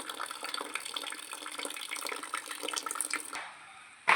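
Water drains out of a can through a small punched hole into a tank, making a steady splashing trickle for about three seconds before it drops away to a quiet hiss, with a short knock at the very end.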